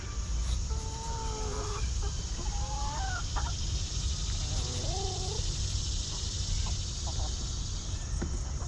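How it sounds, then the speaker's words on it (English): Laying hens cluck and croon in short, scattered phrases at moderate distance over a constant low background hum, with a couple of brief bursts early on and another near the middle. "All of the chickens are laying eggs now."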